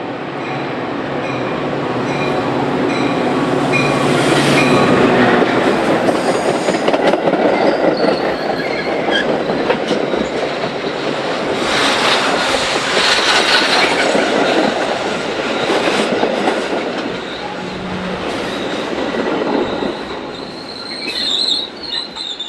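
A BNSF commuter train rolls past on the busy triple-track line at LaGrange, loud and near, with sustained wheel squeal, rushing roar and clickety-clack over the rail joints for over twenty seconds.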